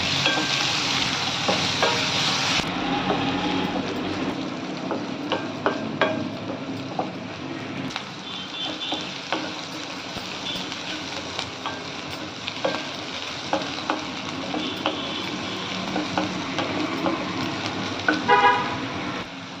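Chopped green chillies and onion pieces fry for a bitter gourd dish, a close, steady crackling sizzle with frequent stirring scrapes and clinks, while faint traffic and a car horn sound in the background.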